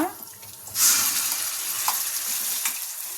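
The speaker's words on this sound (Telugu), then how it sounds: "ఇప్పుడు మనం మిక్సీ పట్టుకున్న పచ్చడి వేసుకున్నా" A ground cucumber and tomato chutney is dropped into a hot tempering of oil and curry leaves, setting off a sudden loud sizzle that settles into a steady frying hiss with faint stirring.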